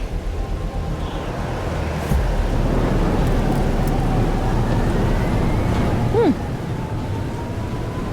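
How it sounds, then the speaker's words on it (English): A thunderstorm with steady rain in the Life Is Strange: Double Exposure video game: a dense, continuous wash of rainfall with a low rumbling undertone, swelling slightly partway through. "But there wasn't a storm the day Safi died."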